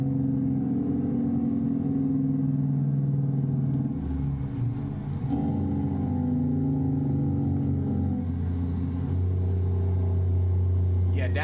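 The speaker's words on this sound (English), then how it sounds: "Yeah, downshifting with the Jake brake" A Kenworth W900 truck in American Truck Simulator downshifting with the Jake brake engaged, a loud sustained low engine rumble with stepped shifts in pitch and a steady droning bark throughout.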